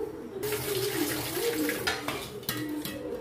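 Water splashes and pours as it is drained off rice and urad dal soaked for eight hours, a close, continuous wet trickle with a few clinks of a vessel.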